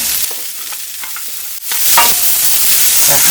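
Loud sizzling as cabbage is stir-fried in a pan, with scraping and tossing sounds; the hiss swells after a brief dip midway.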